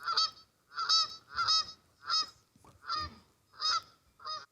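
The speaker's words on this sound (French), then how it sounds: "tu entends le chant des outardes" Canada geese honk in a series of loud, nasal calls, about seven distinct honks spaced roughly half a second apart, close by and clear with no talking over them.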